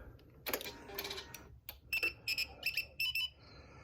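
A remote display for a lighting system on a C14 vehicle runs its startup sequence when the ignition is switched on, giving a series of short electronic beeps and chirps in quick rhythmic bursts, close and moderately quiet.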